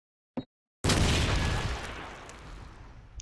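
A grenade blast in a competitive shooter match: a short click, a beat of silence, then a loud booming explosion that rolls out and slowly decays into a lingering rumble.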